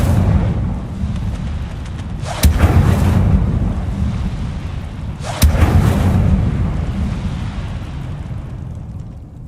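Incendio fire spell cast twice in Hogwarts Legacy, each a sudden loud whooshing burst about three seconds apart over a steady low rumbling game background.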